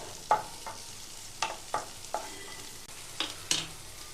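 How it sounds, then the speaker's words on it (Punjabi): Onions frying lightly in a pan, with a soft sizzle under a handful of scattered spoon or spatula scrapes and taps as they are stirred, heard up close without talking. "ਇਹਦੇ ਵਿੱਚ ਆਪਾਂ ਪਿਆਜ਼ ਪਾ ਕੇ ਆਪਾਂ ਇਹਨੂੰ ਹਲਕਾ ਜਿਹਾ ਇਹਨੂੰ ਵੀ ਭੁੰਨਾਂਗੇ"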